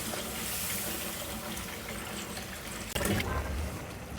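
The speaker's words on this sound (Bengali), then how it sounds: "ব্লেন্ডারে অল্প একটু পানি দিয়ে ব্লেন্ডারটা ধুয়ে পানিগুলো দিয়ে দেবো।" Water poured from a rinsed blender into a pan of spices pours steadily, a continuous splashing rush that shifts slightly near the end as the flow changes, with faint kitchen clatter.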